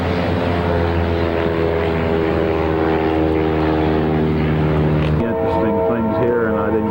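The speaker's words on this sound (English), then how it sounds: "this is all frozen over so the planes can still land and take off" A floatplane takes off over frozen-over water in Alaska, its propeller engine a loud, steady, close drone whose pitch shifts abruptly near the end.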